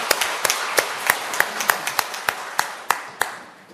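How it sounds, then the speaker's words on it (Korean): A church congregation claps in praise to God, sharp distinct claps in a loose rhythm, a handful of hands rather than a dense wash, close by and fading toward the end. "하나님께 영광의 박수를 보내겠습니다"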